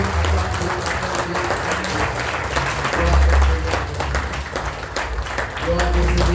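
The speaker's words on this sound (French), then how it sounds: "Est-ce qu'on peut acclamer pour elle?" A church congregation applauding a newly baptized woman, a steady wash of clapping hands from a crowd that swells in the middle, with voices mixed in throughout.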